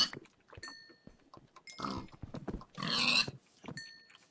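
Pigs in Minecraft, heard during survival gameplay. Several short oinks and grunts come in bursts with gaps, at moderate level and close by, with a broader noisy burst near the end.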